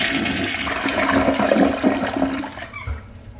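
A second-generation American Standard Champion 4 toilet flushes in a loud, close rush of water that swirls for about three seconds before tapering off. No one talks over it.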